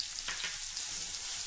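Red chili powder sizzles in hot oil during Maharashtrian festival cooking, a steady close frying hiss that holds evenly for the whole moment with no talking.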